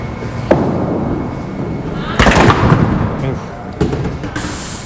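In a 5-pin bowling semi-final, a ball strikes the pins with a loud crash and rattle midway, followed by a later clatter, over the low hum of an arena crowd and a commentator's voice.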